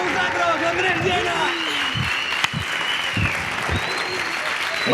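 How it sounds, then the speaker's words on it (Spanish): Applause from a studio audience at a Spanish entertainment show, dense clapping running throughout under a loud musical or vocal backdrop with shouting voices over it. "fuerte el aplauso para él"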